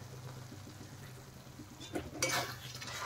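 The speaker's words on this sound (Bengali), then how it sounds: "আর একটু নেড়ে দেব, নেড়ে চেড়ে মশলা আবার একটু কষিয়ে নেব।" Ground turmeric, chili and coriander being stirred in oil in a pan for Kashmiri paneer: a soft scraping stir over a faint, low sizzle, quiet and close, with a brighter clatter of utensil against pan near the end.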